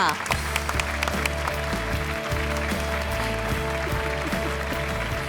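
A studio audience at a Voice Thailand knockout round applauds contestant Ton, a loud, sustained clapping that blends with a musical bed and a voice speaking over it.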